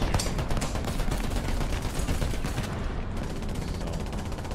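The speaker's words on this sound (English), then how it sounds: "He just keeps shooting." Tank gunfire in a War Thunder duel between an M36 B2 and a Comet II roars as a loud, dense, continuous barrage of rattling shots with no pause and no talking.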